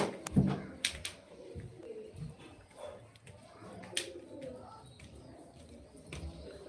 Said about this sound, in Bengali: এগুলো সব আমার শখেরই পায়রা